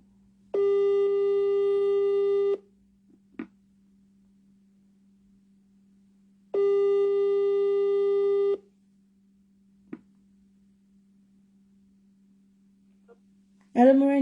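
A WhatsApp call rings out with two long, steady ringback tones separated by silent gaps and soft clicks. A voice starts speaking just at the end.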